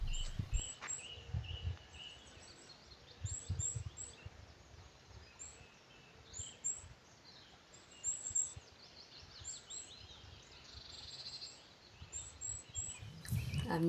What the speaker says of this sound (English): I'm really grateful to hear the birds singing in the background of your place.